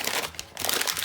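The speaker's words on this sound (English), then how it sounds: "you can just crumple it up" Paper crumpled by hand while packing a handmade soul box, a close, continuous crinkling and crunching that pauses briefly midway before resuming.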